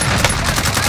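Rapid automatic gunfire in a Call of Duty Warzone Resurgence trio match, a dense burst of shots packed into under a second, loud and close.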